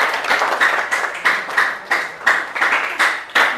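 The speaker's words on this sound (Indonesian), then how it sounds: "Dah, tepuk tangan ya." Students in a classroom clap in unison, a steady rhythmic beat of about ten sharp claps over a few seconds, close and bright, with no talking.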